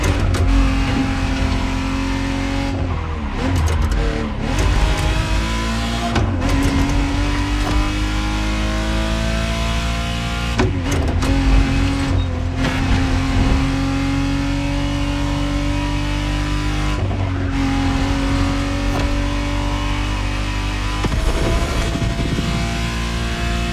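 A 1991 Ferrari Testarossa flat-twelve in The Crew Motorfest, revving loud and close in long rising pulls with sharp drops at each gear change, repeated several times across the run.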